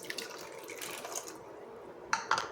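Water trickles and splashes into washed sago pearls in a vessel, a faint uneven pour that thins out midway, then two short sharp clinks or splashes near the end.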